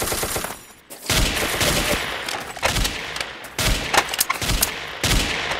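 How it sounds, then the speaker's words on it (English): Rapid, dense machine gun fire in the Ace of Spades video game rattles on almost continuously and loudly, with brief gaps between bursts. "I got a freaking machine gun."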